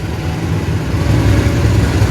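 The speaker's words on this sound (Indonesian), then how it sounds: "Bengawan berangkat, Bray." Bengawan passenger train pulling out of a railway station on track 5, a steady, loud, low rumble of engine and wheels that holds constant without pause.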